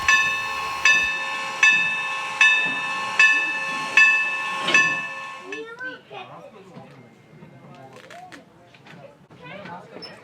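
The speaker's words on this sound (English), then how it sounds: "our train has arrived" A train's bell rings about six times in an even rhythm over a hiss as the train arrives at the Strasburg Railroad in Lancaster, Pennsylvania, then fades as people start talking nearby.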